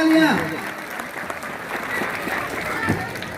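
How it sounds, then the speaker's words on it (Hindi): Audience applause at a school children's day and annual function breaks out briefly and fades within a few seconds, while a voice speaks over it. "जोरदार तालियां नेताजी के लिए, जोरदार तालियां"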